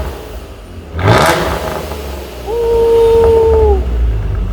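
A car fitted with a Borla ATAK muffler-delete exhaust gives a sharp loud blip, then a sustained, steady-pitched rev held for over a second before dropping back to idle, close and loud.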